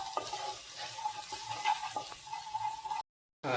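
Tomatoes frying briefly in a pan for a chicken hot and sour soup, with soft sizzling and scraping stirs that come and go, then a short break of silence near the end.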